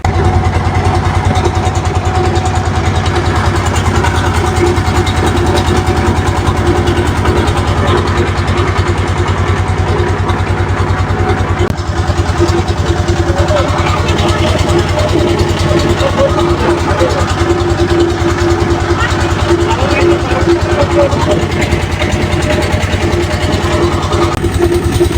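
A trawler boat engine chugs continuously on a river trip near Sylhet, a loud, steady, close mechanical drone with a rapid pulsing beat that lasts throughout.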